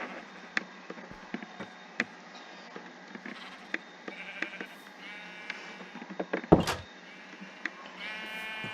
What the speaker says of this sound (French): Chut, les moutons.